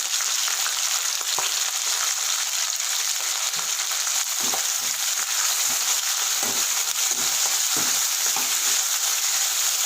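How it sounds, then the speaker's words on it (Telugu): Fenugreek leaves frying in oil for a soya chunk curry, a loud, steady hiss of sizzling lasting throughout, broken by intermittent scrapes and stirring taps close by, without any voices. "ఇప్పుడు మెంతి కూర మెంతి కూర ఆయిల్లోనే ఫ్రై కావాలి"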